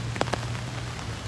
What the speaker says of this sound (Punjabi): ਕਿਉਂਕਿ ਮੀਂਹ ਪੈ ਰਿਹਾ ਦਿੱਲੀ ਦੇ ਵਿੱਚ